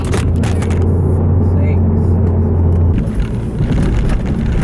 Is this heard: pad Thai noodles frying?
no